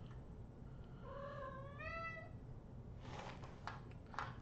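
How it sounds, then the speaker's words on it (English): A house cat gives a single drawn-out meow with a wavering, slightly bending pitch in the background, followed by faint rustling and clicking in a quiet indoor room. "Can y'all hear my cat in the background?"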